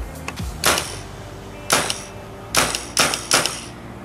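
A Tippmann airsoft M4 rifle fires five sharp, snappy reports, one early and then a spaced group of four, close and loud with quick decay and a faint mechanical clack.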